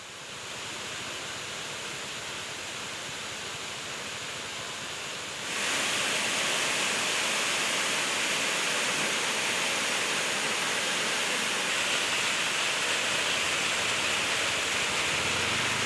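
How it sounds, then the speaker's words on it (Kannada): A steady roaring rush of a waterfall swollen by monsoon rain at Charmadi Ghat, constant and broad, growing noticeably louder partway through and continuing without pause. "ಧುಮ್ಮಿಕ್ತಿರೋ ಜಲಧಾರೆಗೆ ಪ್ರವಾಸಿಗರು ಫುಲ್ ಫಿದಾ ಆಗಿದ್ದಾರೆ."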